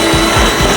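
A power drill whirs loudly and close while drilling holes in a classic Bronco's replacement floor pan, a short continuous burst of motor whine.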